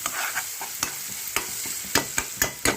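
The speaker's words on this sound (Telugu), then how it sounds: "పచ్చిమిరపకాయలు, ఉల్లిపాయలు కూడా బాగా వేగిపోయి కనిపిస్తుంది కదా" Onions and green chillies fry in a pan, a steady close sizzle broken by sharp scrapes and taps of a spatula stirring at irregular intervals, with no talking.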